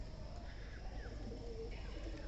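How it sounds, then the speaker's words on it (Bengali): Pigeons coo softly on a rooftop in the early winter morning, a few faint low calls over quiet background hiss. "কবুতরগুলো অসাধারণ ডাকতেছে"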